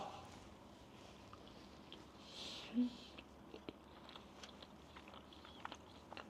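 Someone bites into an Ochin coconut tart with one quiet crisp crunch, followed by faint, close chewing in a near-silent room.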